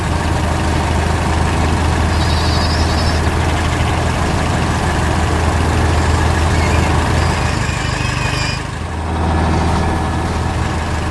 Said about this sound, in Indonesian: Mobil traktor sedang bekerja keras, mengangkat bale hai dengan cangkang baja